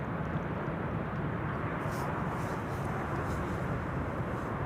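A KLM Cargo aircraft arriving from Nairobi at Amsterdam Schiphol gives a steady, broad engine rumble, moderately loud and unbroken for a few seconds, with no talking.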